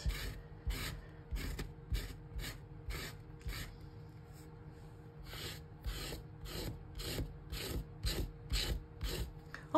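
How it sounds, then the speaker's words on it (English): Rhythmic scraping and rubbing while junk journal ephemera is made with packing tape, a quick series of close, rasping strokes in bursts over a low background hum of fans and air conditioning. "There's a scrapity scraping."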